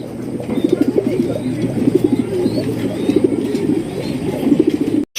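Domestic pigeons, a pair of red-colored birds, coo repeatedly in rhythmic rolling phrases, close and fairly loud, overlapping calls continuing steadily throughout.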